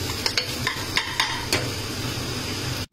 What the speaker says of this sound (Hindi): तो मैं इसको जल्दी से सॉटे कर लेता हूँ थोड़ा सा